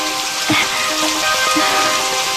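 Steady rain patters outdoors in a broad hiss, with a few louder drop sounds standing out near the start and middle.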